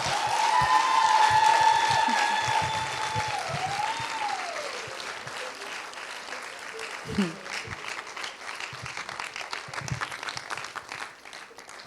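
Sustained crowd applause fills the clip, beginning under a fading musical tone and continuing as dense, steady clapping, with a few louder claps standing out.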